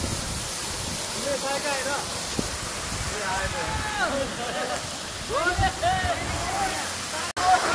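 Jethi Jharana waterfall in Madi municipality roars steadily as a constant close rushing wash, with people talking over it throughout.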